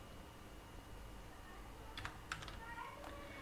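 Keys clicking on a computer keyboard while typing code for a Flutter app: a short cluster of quick, light keystrokes near the middle, close and fairly quiet over a faint background hum, with no voice.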